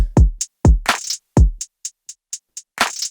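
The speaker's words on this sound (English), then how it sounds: "And altogether, the drums sound like this." A sparse drum beat with punchy kick hits, snappy snares and light ticking hi-hats in a steady groove, played alone and clear.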